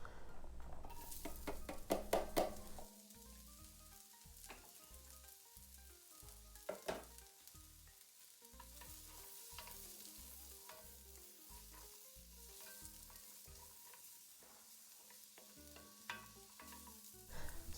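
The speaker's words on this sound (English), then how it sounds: "now I'm starting off with a little oil so I can caramelize those onions." Onions frying in a little oil in a pan, a steady soft sizzle with intermittent stirring scrapes and light clinks of the utensil against the pan, no talking.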